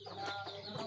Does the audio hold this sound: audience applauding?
no